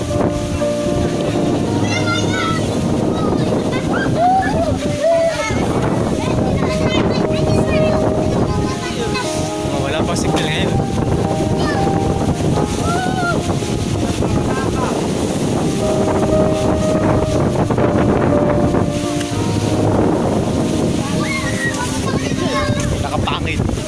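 Strong wind and rushing floodwater roar continuously during Typhoon Ulysses in General Nakar, Quezon, a loud, steady wash of wind buffeting the microphone with water surging beneath, and voices speaking over it at times.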